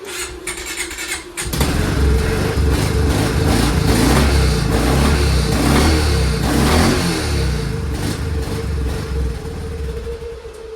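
A Kawasaki Prairie 360 ATV, serviced for running rough and stalling, cranks briefly and catches after about a second and a half, then runs loud and close with a steady, buzzing engine note and slight revving.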